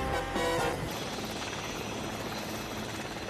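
A helicopter's steady rotor roar fills the scene, loud and continuous, with a slightly stronger burst near the start.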